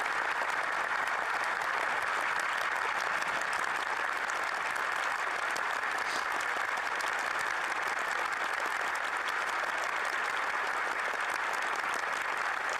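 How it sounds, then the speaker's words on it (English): Sustained, dense applause from a large audience fills a hall after Zelensky's speech in Canada, steady and loud throughout with no break or voices standing out. "Wow, that is a lot of applause."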